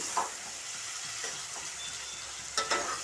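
Tomatoes frying in a pan for Andhra-style fish curry (chepala pulusu), a continuous close sizzle with spoon stirring scrapes and a couple of sharper clinks near the end, no voices.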